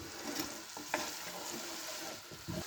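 Spicy chicken stir fry hisses in a pan with a continuous sizzle and a few soft scraping stirs, close and moderately loud.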